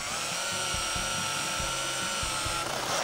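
A power drill drives lag screws into wood while a rustic-style living room piece is assembled. The motor whines steadily, with a rhythmic series of lower pulses as each turn bites, and ends abruptly.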